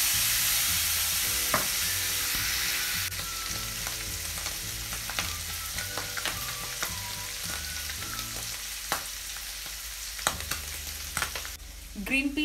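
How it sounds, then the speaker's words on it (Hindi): Canned green peas sizzling in hot oil in a frying pan, a steady loud fry with scattered clicks and stirring scrapes throughout, no talking. "अब मैं इसमें केन्ड ग्रीन पीस डाल दूंगी,"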